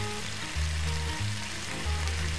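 Food frying in a pan in the Cooking Simulator game, a steady close sizzle with crackling that swells and eases over a couple of seconds, with low hum underneath and no talk.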